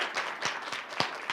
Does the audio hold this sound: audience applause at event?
yes